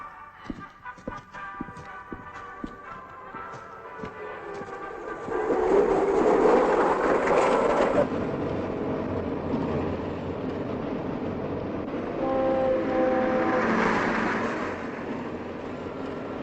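A tram passes on a city street in 1980s Leningrad, a rising rumble and clatter of wheels on rails that swells, fades slightly and returns, heard alone after some faint clopping at the start.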